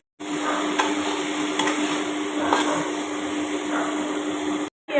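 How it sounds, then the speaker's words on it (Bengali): Chopped tomato and onion fry in a pan, giving a steady, moderately quiet sizzle with faint stirring, heard alone and cut off abruptly near the end. "এবার আমি কাটা টমেটোটা এর মধ্যে দিয়ে দিচ্ছি, দিয়ে আমি ভেজে নিচ্ছি"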